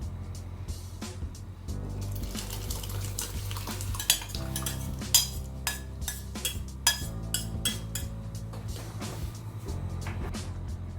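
Cooked toor dal stirred into an ash gourd curry in a pot, with repeated metal clinks and scrapes of a spoon against the vessel, close and fairly steady over a low hum, no talking.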